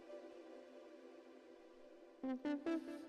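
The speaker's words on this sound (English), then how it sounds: "And it's being processed by a delay and reverb." A Eurorack oscillator and filter voice, run through delay and reverb, hums a soft sustained synth tone. It then gives way to three short plucked pulses with echoing tails, all quiet.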